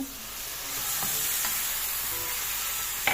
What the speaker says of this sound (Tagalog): Kumukulo na yung nilagay ko